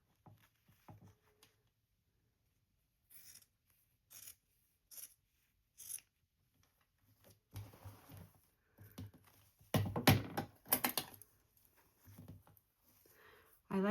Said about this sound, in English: I use my fabric scissor to also trim our little zipper inlay.